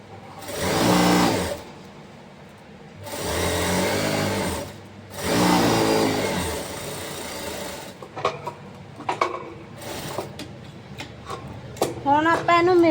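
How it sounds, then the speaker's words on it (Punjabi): An electric sewing machine stitches an elastic frock in several long steady whirring runs with pauses between, close and fairly loud, followed by short bursts and someone speaking. "ਇੱਥੋਂ ਆਪਾਂ ਇਦਾਂ ਰੱਖ ਕੇ ਸਿਲਾਈ ਲਾ ਲਾਂਗੇ"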